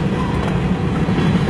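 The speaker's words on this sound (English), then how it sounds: "Long train." A long eastbound CN freight train led by four engines rolls past at close range in Kimball Township, Michigan, a steady loud rumble of wheels and cars with no pause.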